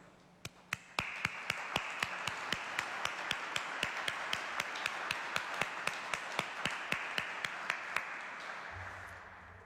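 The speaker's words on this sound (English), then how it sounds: "Would you join me in some applause?" Audience applause at a state governor's awards ceremony, with a few sharp claps that swell into a steady, sustained round from a seated crowd in a large room, then fading out near the end.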